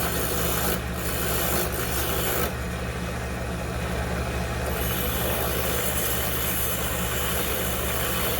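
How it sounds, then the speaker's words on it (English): A hand rasp shaping wooden guitar knobs, producing steady coarse scraping strokes that run almost without pause, close and loud, over a low constant background hum. "I'm gonna use the rasp that I use to carve the back of the neck"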